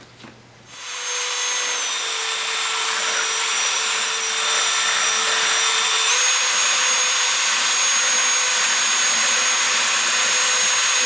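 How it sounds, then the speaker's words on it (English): A power paddle mixer stirs epoxy resin for a walnut and brass resin art piece, giving a steady, loud high-pitched motor whine that starts after a brief pause and runs continuously with a slight pitch shift midway. "I'm using a power paddle for mixing today"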